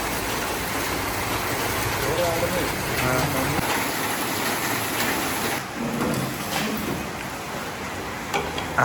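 Heavy rain falls steadily in a village setting in Kerala, a dense, even hiss throughout with people talking over it.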